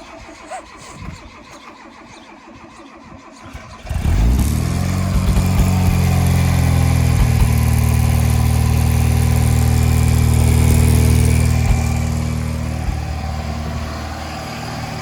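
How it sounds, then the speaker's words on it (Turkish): A Tofaş car engine cranks and catches, then settles into a loud, steady idle with a rumbling revving swell before easing slightly toward the end. "Hadi çalıştır bakalım. Ben egzozdan dinleyeceğim."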